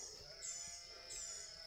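Sheep and goats on a farm pasture bleat faintly and briefly against a steady high insect-like buzz.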